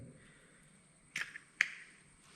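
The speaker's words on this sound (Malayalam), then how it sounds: "ഒരു മുട്ടയും കൂടെ പൊട്ടിച്ച് വയ്ക്കുന്നുണ്ട്." A second egg is cracked for parotta dough, heard as two crisp, close taps about half a second apart against near silence.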